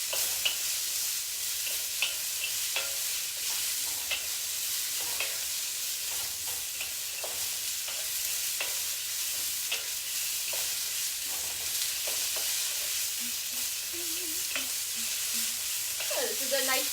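Shrimp and vegetables stir-fried in a wok over the highest heat, giving a steady bright sizzle with repeated scraping and tossing clatters throughout, close and continuous with no talk.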